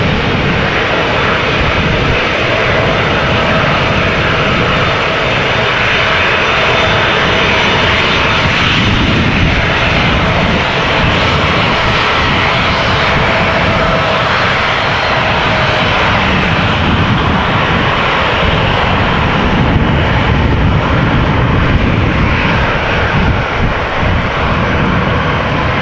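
Airliner engines roar during flight 1585 at Amsterdam Schiphol Airport, a loud, steady broadband rumble and whine that holds for the whole stretch with no voices.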